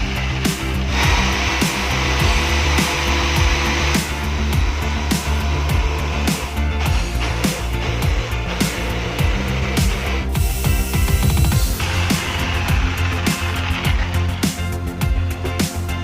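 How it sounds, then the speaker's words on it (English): A jigsaw fitted with a 4 mm blade saws through scrap boards, a loud, steady buzzing rasp that runs without pause, its pitch shifting slightly as the cut goes on, with no talking. "I can cut it using jigsaw machine. I will be using jigsaw machine, a 4 mm thick blade."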